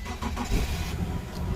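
An Infiniti Q50 sedan's engine starts on a weak battery, a brief sluggish crank that quickly catches into a rough, close running rumble.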